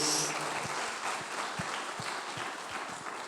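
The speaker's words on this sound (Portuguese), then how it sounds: "Bata as palmas para Ele, glória a Deus." A church congregation claps hands together in a steady, rhythmic beat, the claps broad and fairly loud over a dense wash of room noise.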